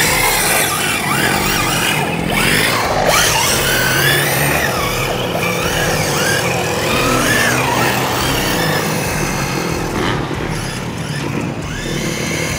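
ZD Racing B10E RC car, running on 3S, whines past at speed on tarmac and gravel, the high-pitched motor rising and fading in repeated passes with tire noise, close and fairly loud.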